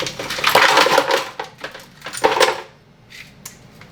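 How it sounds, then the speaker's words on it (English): Ice cubes clatter and crack as they drop into a blender jar, several hard irregular impacts in bursts, loud and close, tapering to a few lighter clinks near the end. "ice goes in the blender"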